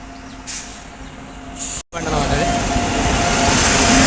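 Loud rumbling and whooshing of a train arriving at Ghatkesar station close by, growing steadily louder, with a brief hiss and a short drop near the middle.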